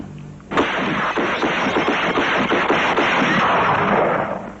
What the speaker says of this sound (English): with 9 shots through a window, Martin Bugsy Heidel paid his debt